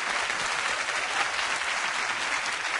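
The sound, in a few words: studio audience applause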